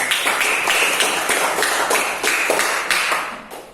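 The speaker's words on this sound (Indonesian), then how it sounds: "Tepuk tangan buat kalian semua." A group of children in a classroom clapping together in a quick, steady rhythm, loud and close, with no voices over it.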